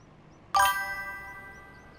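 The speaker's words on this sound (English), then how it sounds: "I just got a flash flood warning on my phone from" A phone sounds a National Weather Service flash flood warning as a single sudden bright chime, ringing out and fading slowly over a quiet background.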